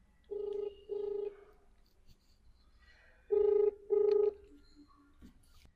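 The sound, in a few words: phone call ringing, not answered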